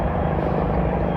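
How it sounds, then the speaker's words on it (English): A helicopter overhead produces a steady, loud rotor drone with a faint chopping pulse, heard close and continuous over an outdoor garden plot with no other sounds standing out. "Excuse the noise, there's a helicopter."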